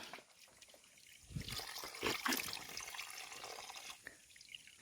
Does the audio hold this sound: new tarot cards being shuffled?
no